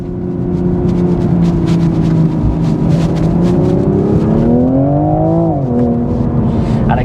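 Toyota GR Supra Jarama Racetrack Edition engine pulling hard on track, a loud sustained drone that climbs in pitch, then drops sharply at a gear change before building again, heard close from inside the car.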